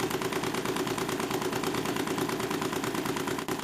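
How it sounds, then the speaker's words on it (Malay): A Stirling engine mounted on a bicycle runs steadily, giving a fast, even chugging pulse much like a small combustion engine, close up and continuous with no talk. "Walaupun bunyinya tidak begitu tepat, sekurang-kurangnya untuk enjin Stirling, ia hampir kedengaran seperti enjin pembakaran"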